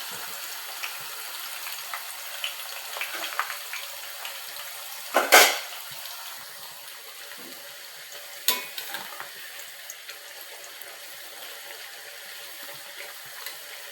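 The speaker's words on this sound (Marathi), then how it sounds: "तेल आता गरम झालेलं आहे, तर आपण त्यामध्ये चिप्स घालून घेऊ." Banana chip slices frying in hot oil, Kerala style, a steady close sizzle throughout with a couple of sharper bursts of crackling and clinks of a stirring utensil.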